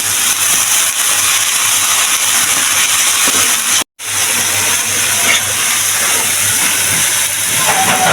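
Sechi shak greens frying in a pan: a loud, steady, close sizzling hiss that runs throughout, broken only by a very brief dropout midway.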